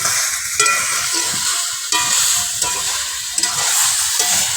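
Jute leaves and potato being stirred in a frying pan, with a steady sizzle under repeated scraping strokes of a spatula at close range.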